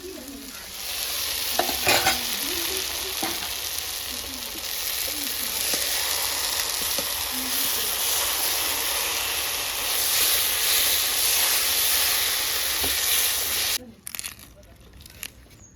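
A fried egg goes into a pan of young jackfruit cooked with goat fat, producing a loud, steady hiss of sizzling that continues evenly before cutting off sharply near the end.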